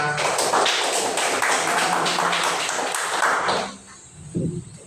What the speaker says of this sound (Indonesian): Beri aplaus ya buat temannya.